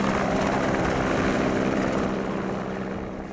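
A helicopter picking up heli-skiers in the mountains near Ayder, its rotor and engine roaring loudly and steadily, close by, then easing slightly toward the end.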